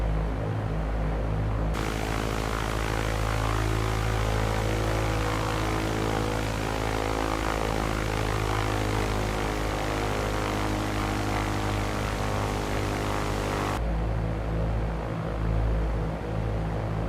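A propeller airplane on its landing approach, a continuous droning engine hum with a steady propeller buzz that holds loud and even throughout, no voices.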